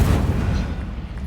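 A burst of the Incendio fire spell in Hogwarts Legacy, a loud low whoosh and rumble of flame that swells at once and fades across about a second, with no talking.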